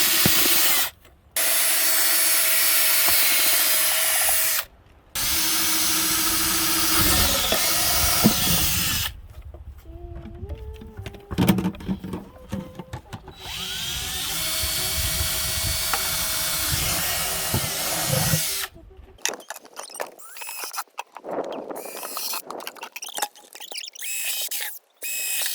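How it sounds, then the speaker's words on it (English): A power drill bores holes through a plastic plunger for a homemade off-grid washing machine, running in several long whining bursts separated by short pauses, loud and close, with a child and an adult talking briefly in between. "now we're gonna have to drill holes in the plunger"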